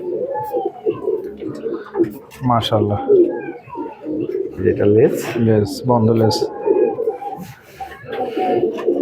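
Salera breeder pigeons coo in repeated throaty bursts close by, with someone talking over and between the calls.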